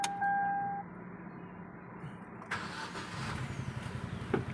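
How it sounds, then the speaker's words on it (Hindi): A Hyundai Accent that had been cranking without starting fires up after repair, its engine catching partway through and settling into a low, fairly quiet running rumble after a near-silent start. "हम इसको स्टार्ट करके चेक करते हैं कि गाड़ी ओके हो रही है कि नहीं"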